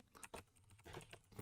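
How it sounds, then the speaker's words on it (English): Keys clack on a mechanical computer keyboard in a quick, uneven run of faint clicks, heard alone at low volume. "I got a new mechanical keyboard and everyone's going to hear it."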